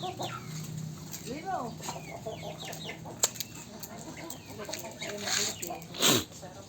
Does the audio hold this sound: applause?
no